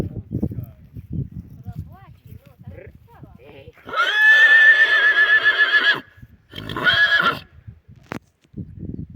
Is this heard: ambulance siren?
no